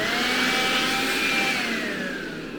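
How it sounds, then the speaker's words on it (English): A close, loud vacuum cleaner drones with a steady motor whine that eases slightly toward the end. "we're going to use a vacuum cleaner to make sure that no debris is left on the motor"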